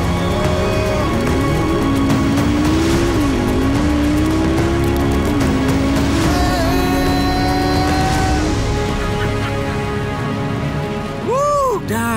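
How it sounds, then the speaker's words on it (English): A McLaren MP4 and a Tesla Model X race side by side, a steady loud engine and motor whine rising and shifting in pitch for most of the run, with a brief whoosh near the end. "So this is McLaren MP4 against Tesla X."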